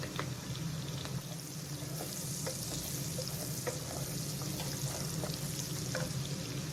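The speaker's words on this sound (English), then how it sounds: "Saute this for 5 minutes." Onions sautéing in a pan for meatballs in tomato sauce, a steady close sizzle running throughout with occasional light clicks of stirring.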